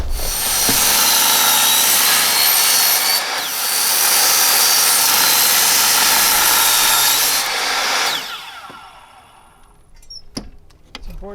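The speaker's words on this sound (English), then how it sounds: "important to have a fine-tooth carbide tip blade to cut through these" A saw with a fine-tooth carbide-tipped blade cuts through the end of a PrimAire door, a loud steady whine for about eight seconds that then stops, followed by faint clicks and handling noise.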